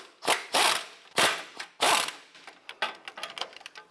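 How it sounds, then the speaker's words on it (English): A ratchet with a 14mm swivel socket and extension loosens bracket bolts on a 2004-2008 Acura TL sway bar, giving a few loud close clicking pulls followed by quicker lighter ratcheting. "Using our 14mm swivel socket and extension, we're going to go ahead and loosen these two bolts on this bracket."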